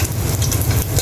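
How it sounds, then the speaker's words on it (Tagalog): Onions for sinigang sauté in a pan with a dense, loud sizzle and low rumbling bubbling that stays constant through the short stretch, with no voices over it. "Pag nagsisinigang po kasi kami, ginigisa muna ang mga panakot. Sibuyas."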